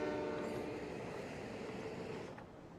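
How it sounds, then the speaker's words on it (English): A cargo train in the city-building game Cities: Skylines rolls past with a steady rumbling rail drone and clattering wagons, holding a fairly even level before easing off near the end. "Look at this beautiful cargo train."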